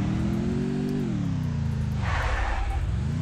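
A motorbike engine in the Free Fire video game revs loudly and close, its pitch rising, dropping away, then climbing again, with a brief skidding hiss midway.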